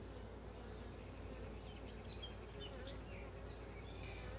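Honeybees hum at an open hive during an inspection, a continuous soft buzzing drone with occasional individual bees whining past close by.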